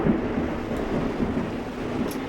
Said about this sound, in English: I'm grateful for this storm.